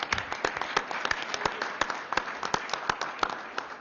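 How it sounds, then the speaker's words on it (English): Applause at an Arizona committee hearing for those who testified: a thin, fairly quiet patter of scattered individual claps from a small crowd. "give a round of applause to everybody who spoke and testified today"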